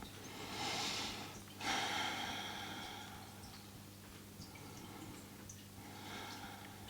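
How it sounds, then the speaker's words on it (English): A person breathes deeply while holding a yoga stretch with a strap, with two audible breaths, an inhale and then a sharper exhale, close and soft against a quiet room, followed by faint small noises. "3 deep breaths here."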